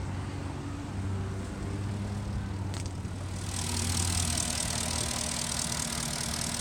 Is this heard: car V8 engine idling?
yes